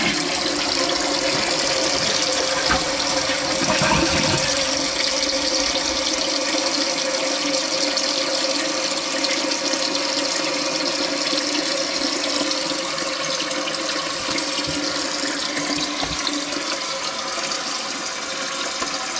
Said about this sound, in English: Yeah, water is coming out.